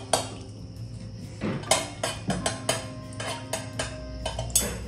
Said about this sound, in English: So I'm gonna stir this now for 2 minutes.